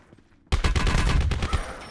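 Gunfire in an action shooter video game: after a quiet half second, a loud rapid burst of shots fires in quick succession and holds for over a second, with no talk over it.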